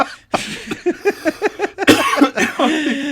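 A fit of repeated coughing, close and loud, many rapid harsh coughs in a rough rhythm, ending with a strained throaty sound.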